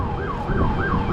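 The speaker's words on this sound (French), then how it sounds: "La police, l'ambulance." Police and ambulance sirens wail in New York City, a continuous rising and falling tone heard at moderate distance over traffic rumble.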